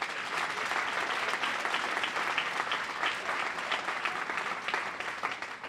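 A large audience at a Boston bridge announcement applauds the governor with steady, dense clapping that holds evenly throughout, without speech.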